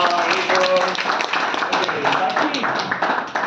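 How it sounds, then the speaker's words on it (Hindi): Audience applause at a business training event on R2B questioning, a dense patter of many hands clapping steadily and loudly for a few seconds with crowd noise mixed in. "जोरदार तालियां।"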